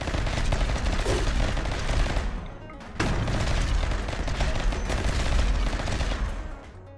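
Sustained heavy weapons fire in a Rimworld space battle, a dense continuous barrage of rapid automatic shots with booming impacts that dips briefly before resuming loud and unbroken.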